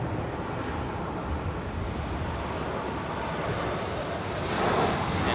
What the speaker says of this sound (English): Coming in now from Sydney though, we have just a stock standard Qantas 737-800